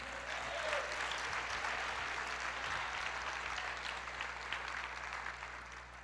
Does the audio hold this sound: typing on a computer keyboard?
no